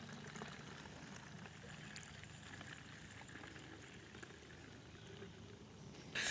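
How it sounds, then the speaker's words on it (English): A faint, steady pouring trickle as a 32:1 diluted mix of Quivr Rogue foam car soap streams from one bottle into another, low and continuous with a brief louder burst at the end. "we're gonna transfer the 32:1 mix into the other bottle that I have."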